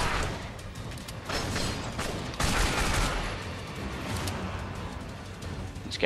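Gunfire in The Darkness, bursts of rapid shots and a few heavier blasts, moderately loud amid broad battle noise with no talk over it.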